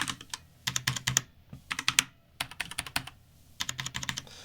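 Typing on a DAS computer keyboard with a soft touch, close and crisp: quick bursts of clustered keystrokes separated by short pauses, each burst a rapid clatter of clicks.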